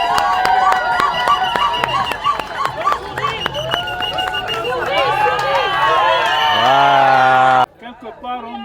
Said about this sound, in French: On accompagne l'acclamation, s'il vous plaît.